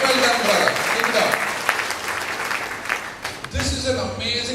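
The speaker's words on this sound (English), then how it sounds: "Can we give him a huge round of applause?" A seminar audience at a communication skills session gives a participant a round of applause, dense clapping that gradually thins and fades, with voices mixed in underneath.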